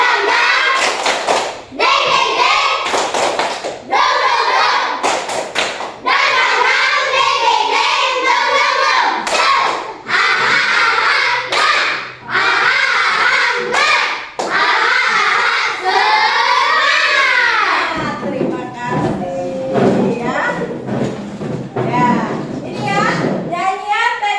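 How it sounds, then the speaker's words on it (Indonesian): A classroom of children does a rhythmic spirit clap, loud and close, with repeated sharp hand claps and thumps mixed with children's voices. "Tepuk semangat"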